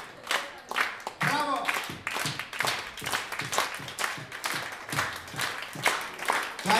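Audience applause at an opera night concert, a steady patter of hand clapping with voices mixed in throughout.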